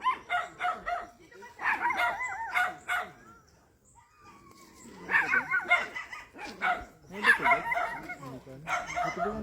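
Several dogs in a seaside community bark repeatedly in quick bursts, with yips mixed in, pausing briefly midway before barking resumes; fairly close.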